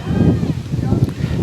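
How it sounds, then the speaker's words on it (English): Strong, blustery wind buffets the microphone beside a girls' varsity high school soccer field on a very windy day, a continuous low rumble with gusts. No one speaks during it. "As you can hear, very, very windy day today."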